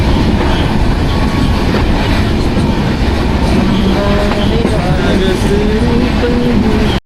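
The Mandovi Express train rumbles steadily along the tracks from Chiplun toward Mumbai, with continuous rolling noise and faint rhythmic clatter, close and loud throughout.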